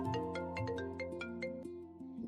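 A mobile phone rings for an incoming call, playing a melodic ringtone with a quick run of clear tonal notes. It is fairly faint and has no talk over it.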